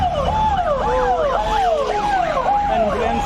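A loud ambulance siren wails nearby, its rising and falling tone repeating steadily over road traffic noise.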